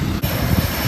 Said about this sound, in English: The plane is on the runway, just about to take off.